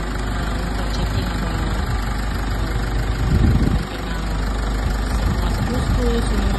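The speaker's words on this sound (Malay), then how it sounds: "technician akan check dengan menilik-nilik dulu dan on-kan engine untuk checking" Isuzu D-Max diesel engine idling during a 40,000 km major service check, a steady close rumble with a brief louder surge midway.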